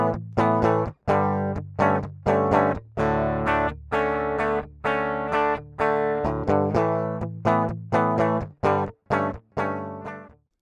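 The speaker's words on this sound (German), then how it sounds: "Hier ist die Aufnahmespur von einem direkten Gitarrensignal, das gleich mit Reamping neu aufgenommen werden soll." Direct electric guitar signal from a recording track, heard solo and dry: a series of strummed and picked chords with sharp attacks and decays, close and clear, some chords cut short, no talk.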